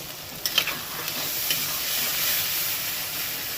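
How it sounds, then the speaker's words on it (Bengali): Spices stir-fried in a pan for Kashmiri aloo dum, a soft steady sizzle with a few scraping stirs early on, fairly quiet and close. "এবার এটাকে ভালো করে কষিয়ে নেবো"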